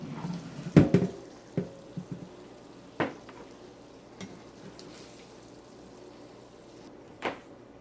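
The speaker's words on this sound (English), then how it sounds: "and then we'll get it rinsed off real good." Water runs and splashes through cooked ground hamburger in a plastic colander, with a few sharp clatters and knocks early on, then a steady rinsing wash and occasional bumps.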